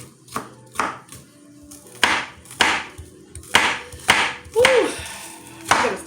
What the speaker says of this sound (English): I'm chopping onion.